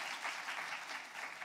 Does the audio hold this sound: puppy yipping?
no